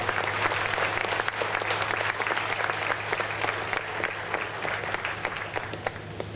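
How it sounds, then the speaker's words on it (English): A crowd applauds steer exhibitors at a county fair livestock show, dense steady clapping filling the whole stretch and fading slightly toward the end. "Let's give these steer exhibitors a big round of applause, please."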